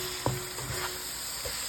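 Fenugreek leaves and minced beef stirred in a pan, a steady soft sizzle under a few light scrapes and taps of the utensil, close and fairly quiet, no talking.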